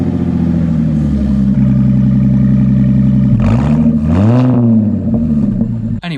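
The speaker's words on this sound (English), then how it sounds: "start the car without an exhaust on" An Audi S4 engine running with no exhaust fitted, a loud, close, raw idle that rises into two quick revs before settling, ending with a brief clunk.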